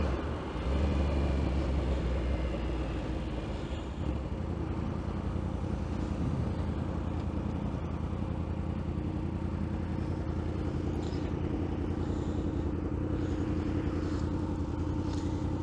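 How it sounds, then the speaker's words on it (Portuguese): A Suzuki GSX-S 1000 (2016) motorcycle engine idles and runs at low revs with a deep, steady rumble, heard close and continuous with no talk. "A minha moto na baixa tá trabalhando errado."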